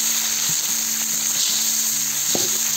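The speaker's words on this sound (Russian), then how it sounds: "Теперь добавляем лук. Его обжариваем до румяной корочки." Onion fries in a kazan over a campfire in a steady, loud sizzle, with a few soft knocks and scrapes of a utensil stirring, and no talk.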